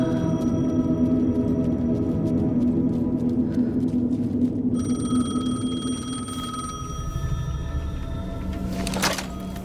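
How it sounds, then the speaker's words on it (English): A payphone rings in the video game Alan Wake 2, its bell tone sounding steadily over a low rumbling ambience with no speech. "The payphone was ringing."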